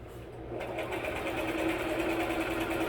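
A sewing machine stitches a tablecloth, starting up and then running in a steady, close, buzzing drone without pause.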